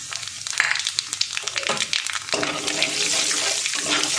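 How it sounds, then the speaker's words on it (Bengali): Black cumin seeds hit hot oil with dry red chillies already in the pan, setting off a burst of crackling spatter that swells into a steady, close sizzle. "এবার আমি কালো জিরে দিয়ে দেবো ফোড়নে"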